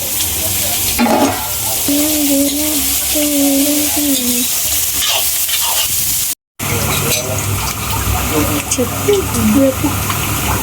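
Cumin and chopped onions fry and sizzle in a pan with steady broadband crackle, spoon stirring scraping through, while a voice talks over part of it and there is a brief dropout in the middle.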